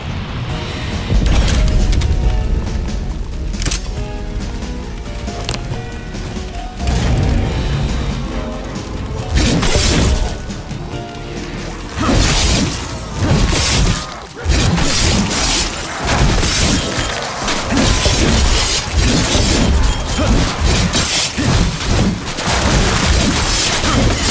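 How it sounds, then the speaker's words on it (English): Loud, dense barrage of booming blasts, shattering crashes and debris from a cruise missile strike in Call of Duty Black Ops Cold War, Forsaken zombies map, continuous heavy impacts rolling over about twenty-four seconds. "Authorizing cruise missile launch."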